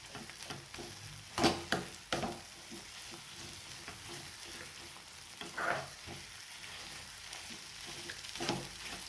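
Egg bhurji, with onion and tomato, being mixed and pressed in a pan, giving a steady sizzle broken by a few louder scraping strokes of the spatula, close by with no talk.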